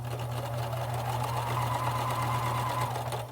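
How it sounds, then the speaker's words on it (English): A sewing machine runs steadily, stitching a quarter-inch seam on a fabric gift bag with ribbon, a continuous close mechanical whir and hum with no pauses. "And then you can go ahead and start sewing."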